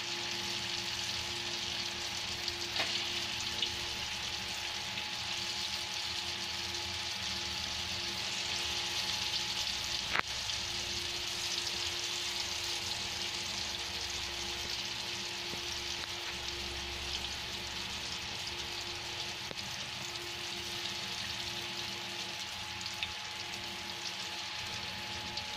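Lentil dumplings (bhallas) frying in hot oil, a steady soft sizzle and bubbling that holds even and close throughout, with no talking.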